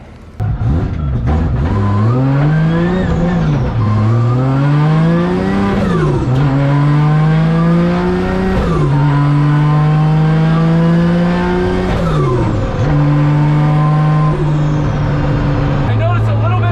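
An Evo 5 RC car screams through hard acceleration runs, its engine pitch rising and dropping in repeated sweeps, loud and continuous throughout.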